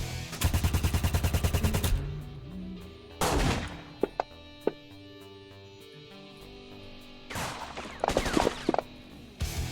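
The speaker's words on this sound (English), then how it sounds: "But you're hearing gunshots going off still." Video game gunfire: rapid bursts of automatic fire alternate with single sharp shots and brief lulls, loud and close, with no voices.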